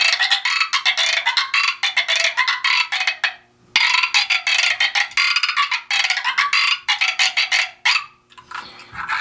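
A frog sound drum played by hand, giving rapid croaking bursts in fast rhythmic runs, loud and close, with the pitch shifting as the hand moves, pausing briefly midway and near the end.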